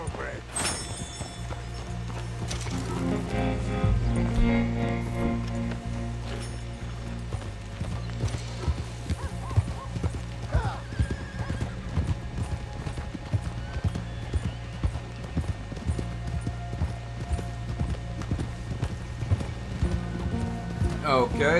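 Horses at the south-side stables in the video game Red Dead Redemption 2, with steady clip-clop hooves and an occasional whinny running throughout over a low musical and ambient bed, people talking at times.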